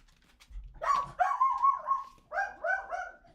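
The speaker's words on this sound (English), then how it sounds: "This dog." A dog gives a short sequence of vocalizations: a yelping bark that stretches into a whiny, drawn-out howl, then a couple of quicker yips, fairly faint and close, without any talking.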